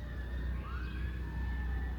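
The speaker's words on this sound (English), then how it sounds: "It lowered so I could hear fucking sirens." Emergency vehicle siren wails outside, a faint steady tone with one rising sweep, heard at a distance over low rumbling background noise.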